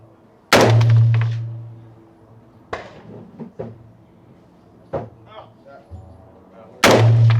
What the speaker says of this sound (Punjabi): ਤੇਰੀ ਭੈਣ ਆ ਕਿਹੜੀ ਰਾਈਫਲ ਚਲਾਈ ਇਹਨੇ?